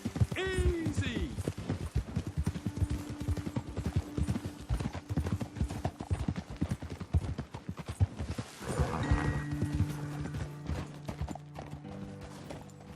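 Horse hooves clip-clop in a rapid, steady galloping rhythm across open terrain in Red Dead Redemption 2, loud and close, with a brief whinny near the start and low game music under it.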